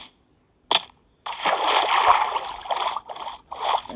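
A Minecraft player splashes into water: a short sharp click, then a loud, close splash and slosh that churns for a few seconds in uneven surges.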